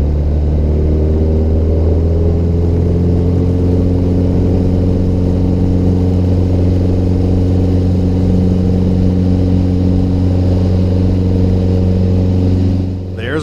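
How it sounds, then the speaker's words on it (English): A light aircraft engine held at full power during the takeoff roll down a runway, a loud steady droning hum with strong low harmonics that stays constant throughout, heard from inside the cockpit. "smoothly throttle up to full power and accelerate down the center line of the"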